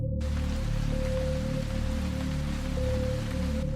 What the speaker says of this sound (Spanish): Con el ruido de la lluvia golpeando el techo de lámina de mi abuela